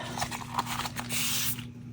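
Aerosol spray can hissing onto a resin bookmark mold, a steady broadband spray for about a second and a half with light handling clicks before it, close and fairly quiet, then cutting off.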